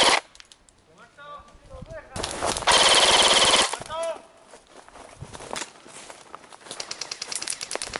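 Rapid automatic gunfire in a first-person shooter video game, a loud dense burst in the middle between shorter clattering shots and footsteps, with excited talk around it.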